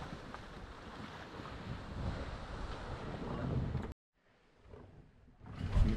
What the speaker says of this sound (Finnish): Sopivasti alkaa tuulikin viriemään.